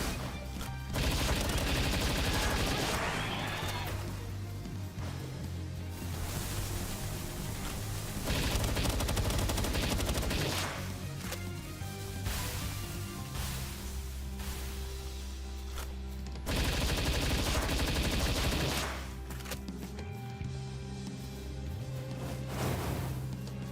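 Rapid gunfire sprays at Jormuntides in the video game Palworld, loud sustained bursts of automatic shots and impacts with only brief gaps between volleys.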